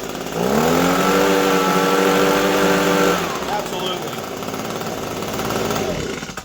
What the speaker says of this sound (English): with just that little bit of maintenance, we had a leaf blower that didn't run too well